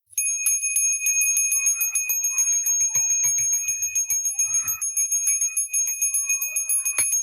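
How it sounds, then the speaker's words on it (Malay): A bell rings continuously with rapid, even strikes and a bright sustained tone, joined by a few soft low thumps midway. "tiba-tiba dia terdengar bunyi loceng."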